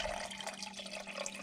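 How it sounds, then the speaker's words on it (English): Water poured off melted candle wax from a container, a faint, steady splashing trickle for a second and a half with no talk. "Pour off some of that water."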